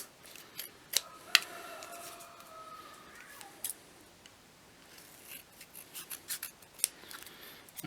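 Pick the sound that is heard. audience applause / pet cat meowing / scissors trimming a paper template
scissors trimming a paper template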